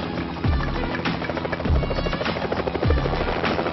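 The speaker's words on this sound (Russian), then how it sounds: "на территорию загородной резиденции королевской семьи приземляются один за другим два вертолета" Two helicopters land one after another at a royal family's country residence, rotor blades thumping loud and close in a steady beat over a constant turbine whine.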